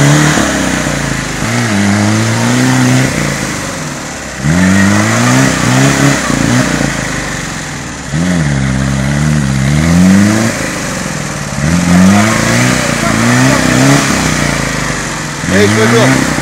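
A car engine revs repeatedly in rising surges while the vehicle sits stuck and not moving, loud and close, with people talking over it.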